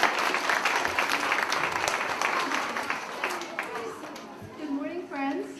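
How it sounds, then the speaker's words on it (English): A school audience at a second-grade assembly claps in a sustained round of applause that gradually tapers, with a few voices and murmurs rising toward the end. "Please give them a round of applause."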